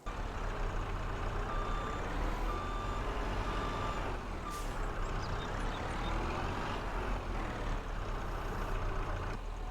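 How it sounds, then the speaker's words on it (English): In Farming Simulator 22, a truck idles with a low engine drone while a skid steer is unloaded, and a repeated high reversing beep sounds in evenly spaced pulses over the rumble. "Alright, we got the skid steer unloaded."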